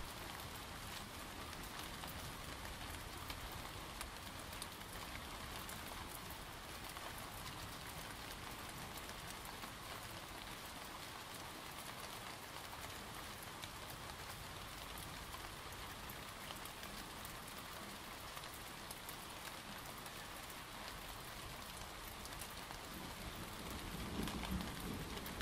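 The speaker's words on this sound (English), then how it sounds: "Draw your attention back to the rain." Steady, dense rain pours onto surfaces for the whole stretch as an even, close hiss with no pauses; no clear thunder stands out and no voice is heard.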